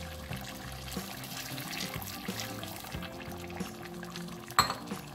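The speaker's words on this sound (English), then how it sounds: "you add a cup of hot water." Hot water poured from a cup into simmering pork curry (Dukra Maas), a steady moderate pour heard over continuous tonal background sounds, with a sharper clink near the end.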